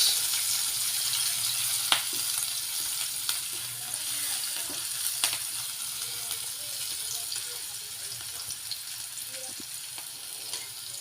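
Onions sauté in a pan for lomi, a soft, continuous frying hiss with occasional sharp clicks and stirring knocks, fairly close but subdued.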